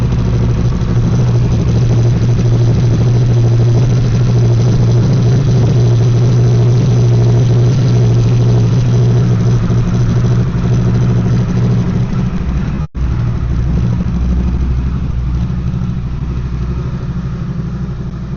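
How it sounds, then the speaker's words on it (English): A Harley motorcycle idles loudly and steadily close up, its exhaust throbbing with a deep, even rumble that drops out for an instant before resuming. "I think the exhaust sounds good"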